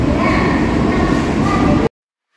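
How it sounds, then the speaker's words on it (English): A loud, steady rumble of a freight train departing close by at Cincinnati Union Terminal, dense and continuous, then cutting off abruptly into silence. "it looks like now the freight train is finally leaving"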